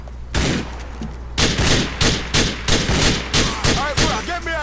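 Gunfire in Grand Theft Auto IV: one loud shot, a pause, then a steady series of about eight evenly spaced heavy reports, close and punchy, with no talk over them.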